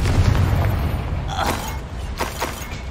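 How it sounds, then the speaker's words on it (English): Confringo fire spell in Hogwarts Legacy, a deep rumbling boom with a roaring burst that carries on in a dense wash of noise and crackle, loud and alone. "Confringo!"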